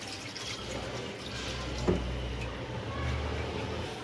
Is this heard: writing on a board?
no